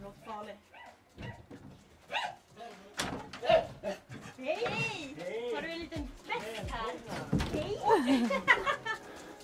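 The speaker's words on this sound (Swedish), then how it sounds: "är en hund där i alla fall" A dog barks several times in short bursts, fairly close, over a mix of speech-like voices and other household noise.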